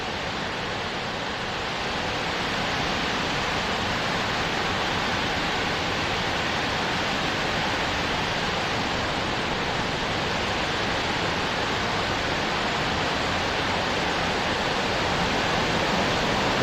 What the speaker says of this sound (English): Got waterfall down there